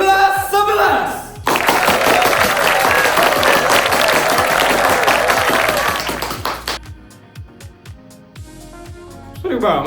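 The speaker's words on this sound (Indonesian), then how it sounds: "beri tepuk tangan yang meriah untuk penampilan dari kelas 11." An audience applauds a class 11 performance at a school red-and-white costume competition, with dense clapping swelling for several seconds and then thinning out, mixed with crowd noise.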